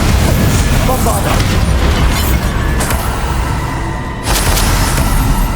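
A Bombarda explosion spell goes off in Hogwarts Legacy amid a dense, loud wash of boomy combat noise that rumbles continuously and swells again near the end.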